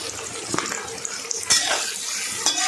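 Onion and garlic frying over a medium flame in a pan give a steady, close hiss and sizzle, with a few sharp clinks and stirring scrapes breaking through.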